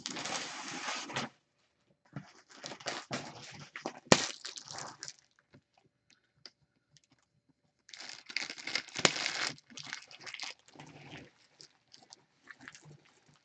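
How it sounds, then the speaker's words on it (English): An X-Acto knife slicing open a trading card case box, with bursts of crinkling, scraping and tearing cardboard broken by short silent pauses, close and fairly loud, with no talking. "Do a surgical cut right down the crack of the box"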